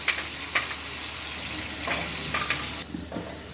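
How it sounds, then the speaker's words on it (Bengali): Potatoes frying in a pan make a steady, moderately quiet sizzle with a few soft scraping bursts from stirring, heard alone. "তাহলে আমার আলুটা মোটামুটি ভাজা হয়ে গেল"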